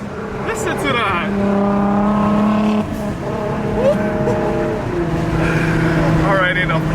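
A widebody Nissan GTR engine revs repeatedly, loud rising and falling roars with a gap between pulls, close by, with excited voices over it.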